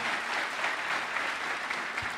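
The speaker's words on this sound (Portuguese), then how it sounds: "let's give them a hand clap" Church congregation applauding guests, a steady dense wash of hand clapping from a large indoor audience, loud and continuous throughout.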